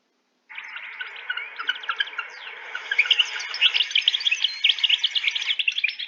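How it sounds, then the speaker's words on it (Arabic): Several small birds chirp and tweet continuously, a dense overlapping chorus of bright, rapid calls that grows busier and louder after the first seconds, with no talking. "عصافير. عرفت ازاي ان في عصافير؟ علشان سمعت صوتهم."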